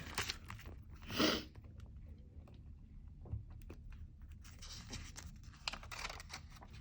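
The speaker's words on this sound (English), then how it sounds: "Let me take out some paper from here." Loose paper sheets pulled from a mini ring planner, a burst of crisp rustling and a sharp snap near the start followed by scattered light crinkles and ticks, close and fairly quiet with no talk.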